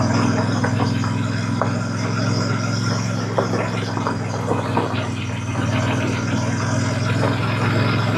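Royal Enfield Super Meteor motorcycle riding over loose shale, a steady engine drone with wind rush and scattered crunches of stones under the tyres, continuous and fairly loud.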